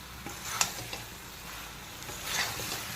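Ridge gourd and Malabar spinach stalks stir-fried with spices in a pan, a soft close sizzle broken by a few sharp clinks and scrapes of the stirring spoon.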